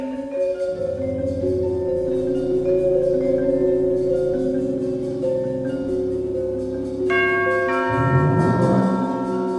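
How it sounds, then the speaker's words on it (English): A garage door chime: a sustained, ringing bell-like chime with layered tones, changing pitch partway through and ending in a brighter rising flourish. "The garage chimes and the door rolls up."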